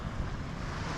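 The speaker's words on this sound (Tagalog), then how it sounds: "The wind is very nice." Wind blowing across a beach on Phu Quoc, a soft, steady rush of air with a low rumble from gusts against the microphone, with no one speaking.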